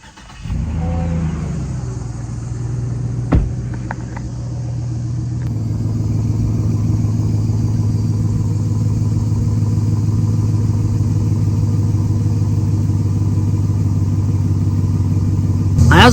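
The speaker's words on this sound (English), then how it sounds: "for a factory exhaust, you know, V8, factory V8 in a factory car, all stock, it does sound pretty nice" A GM LS 5.3 V8 on a fully stock factory exhaust, fitted in a Trailblazer clone, starts up and settles into a deep, rumbling idle that continues loud and close. A sharp knock is heard early on.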